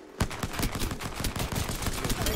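Rapid automatic gunfire during a video game arena match, a quick rhythmic burst of close, loud shots rattling without pause.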